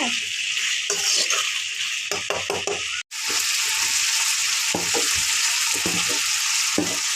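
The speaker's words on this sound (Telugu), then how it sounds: "ఇప్పుడైతే ఇవి నూనెలో బాగా మగ్గిపోయినాయి. సిమ్లో పెట్టి ఒక 10 నిమిషాలు వేయించుకోవాలి." Ingredients frying in oil in a pan, a strong continuous sizzle with repeated stirring scrapes throughout and a brief break midway.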